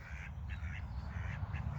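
Several ducks quack in short, repeated bursts over steady low background noise, moderately close and with no talking.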